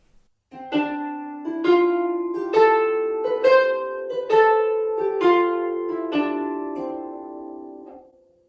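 Plucked harp notes play the reversed dotted rhythm, short-long pairs, in an even sequence of about eight attacks that ring and overlap, heard up close and alone without voices.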